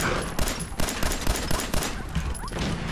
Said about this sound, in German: jetzt können wir ganz normal weiter mit der 10mm Pistole drauf gehen